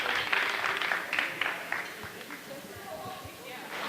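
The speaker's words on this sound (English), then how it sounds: "do a show of respect here, clapping for JD Alpha as the referee carries him to the back" A wrestling crowd at a CZW Dojo Wars show claps in respect for JD Alpha as he is carried out, a scattered smallish-audience clapping that fades over a few seconds, with a commentator talking over it.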